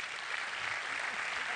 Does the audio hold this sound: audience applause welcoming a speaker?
yes